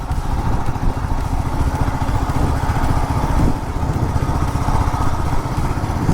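A motorcycle rides along a main road near the Pondicherry–Tamil Nadu border, its engine droning steadily and loud throughout with rumbling wind and road noise and no talking.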